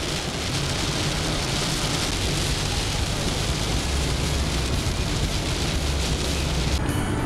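Heavy rain pounds steadily on a moving vehicle while driving toward Pittsburgh, a loud, continuous broadband wash with road rumble underneath and no voices.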